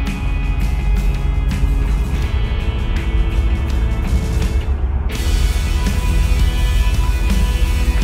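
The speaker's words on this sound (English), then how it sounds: "Quite a few cars today." Steady, loud road traffic noise with cars going by one after another, a continuous rush near the listener with a brief dip before it swells again.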